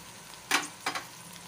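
Spices such as chaat masala, turmeric, salt and dried fenugreek are stirred and roasted in a pan, with two short bursts of scraping sizzle over a quiet background.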